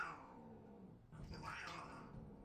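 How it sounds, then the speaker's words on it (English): Several house cats yowl and growl loudly up close, a drawn-out caterwaul swelling midway with rough snarling undertones over low room noise. "Sorry about my cats."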